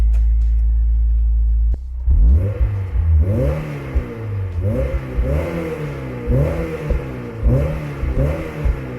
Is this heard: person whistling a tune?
no